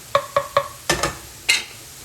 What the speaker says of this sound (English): the mushrooms are now gonna be caramelizing more in the fat